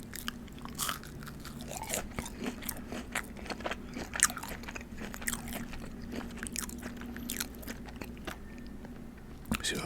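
Crunchy fried green beans bitten and chewed up close give sharp, crisp crunches in quick irregular bursts over a quiet background.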